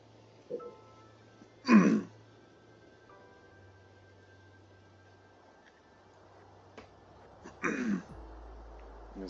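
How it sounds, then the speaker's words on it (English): A person clears their throat twice, short close harsh rasps several seconds apart against a quiet background with faint game sounds. "sorry about the incessant clearing my throat"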